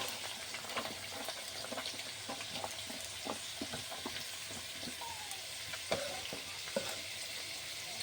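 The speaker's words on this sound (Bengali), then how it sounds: "এবার আমি আলুগুলো দিয়ে দেবো তেলের মধ্যে" Potatoes fry in oil in a pan with fennel seeds, crackling and sizzling quietly while a spatula taps and scrapes in an irregular rhythm, with no talking.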